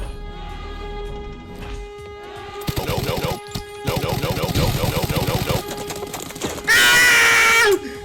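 Rapid bursts of MP5K automatic gunfire in the video game Arena Breakout crackle in quick succession, broken by brief pauses, ending with a loud, harsh shrieking burst.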